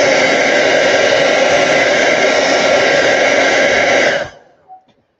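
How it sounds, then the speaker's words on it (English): Hair dryer blowing hot air onto plastilene clay to soften it, a loud steady whooshing hum running about four seconds, then switched off, leaving a couple of faint handling knocks. "I just put the hairdryer on the clay to soften it up"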